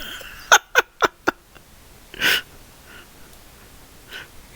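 A person's voice imitates a big sneeze during a Dungeons and Dragons session: a few quick sharp sniffing intakes, then one burst, fairly close against a faint room hiss.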